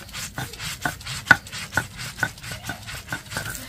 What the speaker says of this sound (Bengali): আমি এখানে শিলে বাটছি